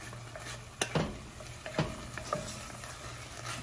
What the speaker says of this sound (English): And so we're going to just stir it in real good.